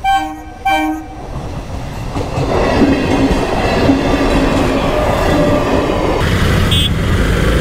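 A train rumbles steadily past close by at a railway level crossing near Kharibari, a loud continuous roar of wheels on rails after a brief horn blast at the start.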